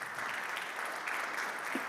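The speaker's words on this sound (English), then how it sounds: "let us give them a round of applause" Audience applause at a church synod leadership gathering in Minneapolis, a steady, dense clapping from a room full of people that holds evenly for two seconds.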